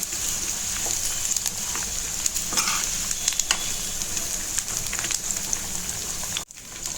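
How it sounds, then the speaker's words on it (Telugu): Drumstick (moringa) pieces fry in hot oil in a pan, giving a steady, close, continuous sizzle with scattered crackles and pops and one brief dip near the end. "ఈ మునక్కాయ ముక్కలు వేపుకుందాం."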